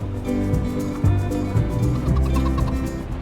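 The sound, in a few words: chickens clucking in Farming Simulator 25 video game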